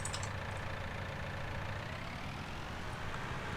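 A tractor engine idles in Farming Simulator 19, a steady low, even rumble held at moderate level throughout with no talking.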